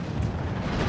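Ship cannon shot in a naval video game, a deep rumbling boom with a low, sustained blast that fills the moment, loud and heavy with no talk over it.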